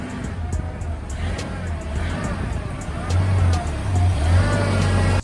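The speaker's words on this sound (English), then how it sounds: "It's very apparent this truck is misfiring and has a power steering squeal." A four-cylinder pickup truck engine idles roughly with an uneven misfiring pulse, a steady whine running over it and the rumble growing louder partway through, heard up close with no talk.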